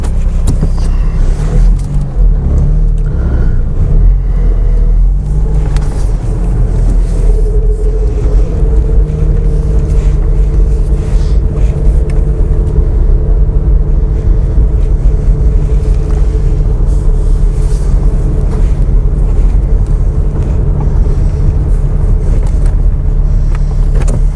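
A Mazda RX8 drives on a road iced over by freezing rain, its engine a loud, steady low rumble with a droning tone for over twenty seconds.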